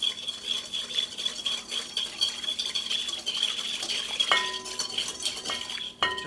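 A utensil stirs a dressing made with pickle vinegar in a bowl, a continuous scraping swirl with light clinks and a sharp knock near the end, with no talking.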